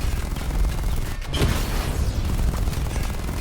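Gunfire and explosive blasts from the video game Batman Arkham Knight form a dense, continuous barrage of loud shots and booms, with a sharp burst near the middle and no talk over them.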